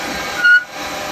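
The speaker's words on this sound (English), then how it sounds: "I'm going to drill it." A wooden bud vase spins on a lathe as a drill bit bores into it, a steady whirring hiss with a brief higher-pitched squeal in the middle.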